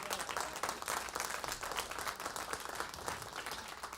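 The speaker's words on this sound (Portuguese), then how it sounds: "Aplauda ao Senhor." Church congregation claps continuously in a dense, even patter of applause, fairly faint and distant, with no distinct voices over it.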